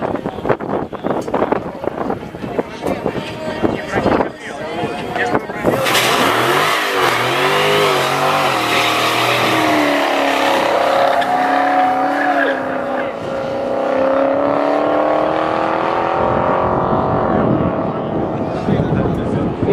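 A race car at an autumn event on the Kiltsi airfield roars up to speed, its loud engine note rising steadily in pitch through the gears and then holding near flat out, with talking layered over it.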